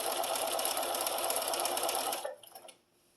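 A sewing machine runs a fast, steady basting stitch along a quilted table runner for about two seconds, then winds down and stops, close and alone.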